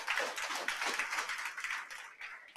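An audience claps at a talk, a dense close patter of many hands that fades slightly over a couple of seconds.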